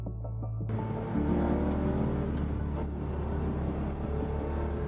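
A Porsche RS sports car engine runs close by, holding a steady throaty drone that steps up in pitch partway through as it revs, then settles into a sustained hum with no talking.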